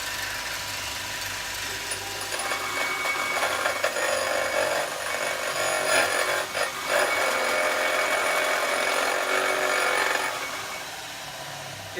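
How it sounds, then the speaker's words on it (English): A grinding wheel grinds steel on an anvil hardy in a long, steady abrasive hiss. A few brief surges and dips break the noise before it tails off at the end. "see if I can actually grind some off using this wheel over here"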